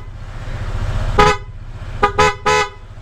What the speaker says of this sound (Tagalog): sinabayan na natin ng yung PIAA loud horn